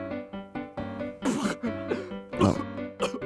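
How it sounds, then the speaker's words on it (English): A person coughs repeatedly in rough, throaty bursts close to the mic, interspersed with throat-clearing grunts. "You're just coughing."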